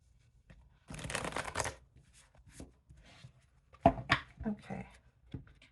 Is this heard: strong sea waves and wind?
no